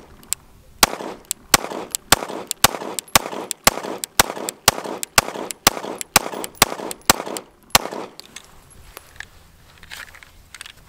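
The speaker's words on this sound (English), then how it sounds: "Let's just shoot into the dirt to see how this thing feels." Suppressed 9mm pistol firing 115 grain rounds into dirt, a steady string of about sixteen sharp, close shots at a quick even pace, then a quieter tail of ambient noise.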